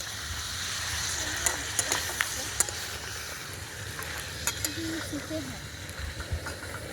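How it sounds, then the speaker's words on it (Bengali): Chicken cooking in a pan at an outdoor picnic: a steady frying sizzle with occasional clicks of stirring, a low engine-like rumble beneath, and people talking over it. "আমি এখন দেখতে পাচ্ছ চিকেন করছি"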